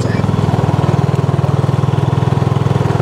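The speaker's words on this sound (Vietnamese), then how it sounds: "Ngồi sau có ai đó đang chạy xe máy ngồi sau cả nhà mình." A motorbike engine runs close behind, a loud steady throbbing pulse that continues without a break.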